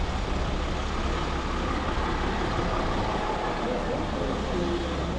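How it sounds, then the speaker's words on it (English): Local shuttle bus carrying pilgrims up and down Mount Tabor in the Lower Galilee, its engine a steady low rumble with road noise that holds constant throughout, close by and fairly loud. "The only way up and down for a pilgrim is using these local shuttle buses"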